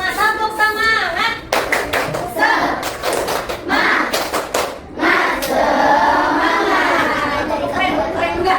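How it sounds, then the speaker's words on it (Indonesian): A classroom claps for group 3, bursts of rhythmic patterned clapping in quick sets separated by short pauses, loud and close, with children's voices and chatter mixed in. "Tepuk tangan untuk kelompok 3."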